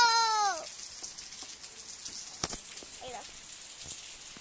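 Rain falls outside as a steady soft hiss of drops on surfaces, heard at moderate distance throughout, with a brief cat-like mewing cry at the start and a few sharp knocks.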